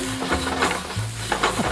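Drained chickpeas with black pepper and broth are stirred and sautéed in a pan, giving a steady close sizzle with soft scraping stirs and a few knocks of the utensil against the pan.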